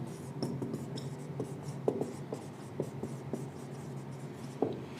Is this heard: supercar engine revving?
no